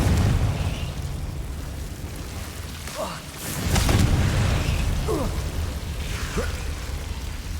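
Confringo blasting spell in Hogwarts Legacy, with a loud explosive burst rising out of a steady rumbling game background and a few whooshing spell effects around it.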